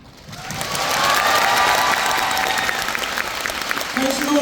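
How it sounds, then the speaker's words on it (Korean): A concert crowd in Busan breaks into applause and cheering ahead of a dance crew's stage performance, swelling quickly to a sustained, loud wash of clapping that stays even throughout. "많은 기대와 응원 박수 부탁드리겠습니다"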